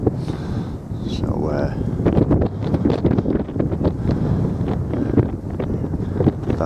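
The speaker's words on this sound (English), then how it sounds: "So windy." Strong wind gusts across Harlech sand dunes on a wild camp, a constant roaring buffet against the microphone with flapping and rustling, while someone talks over it throughout.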